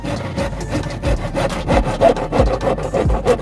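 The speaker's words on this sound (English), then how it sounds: "So we're currently sawing a bit of his bumper off so the wheel fits." A hand saw rasps back and forth steadily through a car bumper, repeated strokes in an even rhythm, close up with a low hum beneath.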